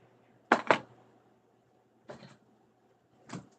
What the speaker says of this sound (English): She beating on my door.